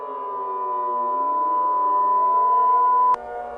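A steady civil defense warning siren holds a long sustained wailing tone, loud and close, rising slightly before cutting off abruptly near the end, with no talk over it.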